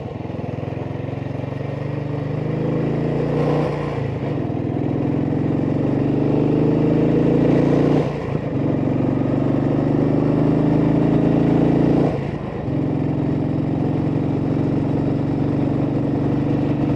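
A 1959 Ariel Red Hunter motorcycle rides along with a steady, loud engine drone and wind, dipping briefly three times as it shifts or eases off before pulling on again.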